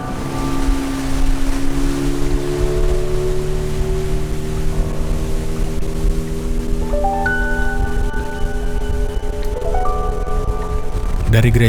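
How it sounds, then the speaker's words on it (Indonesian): A small speedboat crossing open water between islands off Roon, Papua, heard as a steady, loud engine drone with rushing water and wind throughout, its pitch rising and falling, with no talking. "Dari gereja itu, kami lanjut menggunakan speedboat kecil menuju gubuk kami di desa Niap"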